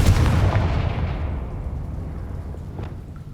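The Confringo blast spell in the Hogwarts Legacy video game hits with a loud, deep explosive boom up close, followed by a long rumbling decay over several seconds.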